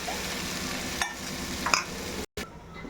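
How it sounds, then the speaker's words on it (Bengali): Prawns sizzling and being stirred in a hot wok, a steady fry with a few scraping utensil strokes, then a brief break near the end. "চিংড়ি মাছটাও দিয়ে দিলাম।"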